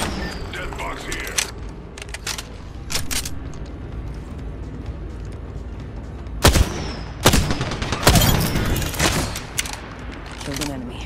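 Apex Legends gunfire rattles out in sharp, loud bursts, scattered single shots early and then heavy rapid volleys near the end, with in-game voice lines between them.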